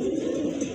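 A chocolate-coloured muki pigeon at a pigeon seller's coos in a low, soft rolling call, close by, with no talk.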